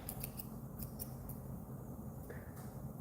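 Scissors snip pink synthetic hair for fly tying, a few quick crisp cuts near the start over a steady low room hum, close and fairly quiet.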